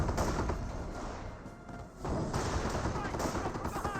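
Gunfire and explosions from a Company of Heroes 1 battle between Panzer Grenadiers and infantry form a dense, continuous roar of shots and blasts, loud and unbroken apart from a brief dip in the middle.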